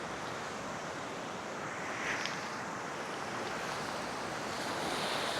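Waves wash steadily onto a clean tropical beach in Indonesia near a surfing area, a continuous loud roar of surf mixed with wind buffeting the microphone, with no voices.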